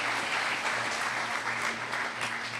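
An audience at a Hall of Fame event claps in a steady, moderately loud wave of overlapping hands, with a faint low hum running beneath it.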